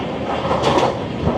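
Garib Rath Express passenger train rolling along the rails between Agartala and Kolkata, heard from inside as a steady loud rumble with rhythmic clatter of wheels over rail joints, no talking.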